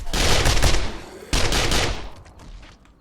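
Gunfire from the zombie survival game 7 Days to Die: two loud bursts of rapid shots, each ringing off and fading, the second starting after a brief gap.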